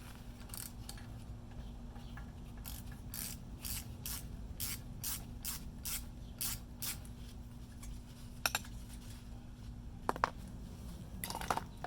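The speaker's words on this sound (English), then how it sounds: "I'm just going to try this with the ratchet" A ratchet loosens a bolt on the front brake of an Audi B8.5 S4, giving a run of quick, evenly spaced clicks followed by a few sharper metallic knocks, close by with no talking.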